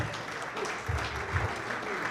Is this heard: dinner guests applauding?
yes